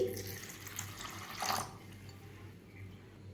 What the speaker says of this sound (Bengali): চিড়েতে আমি এখন জল দিয়ে নিচ্ছি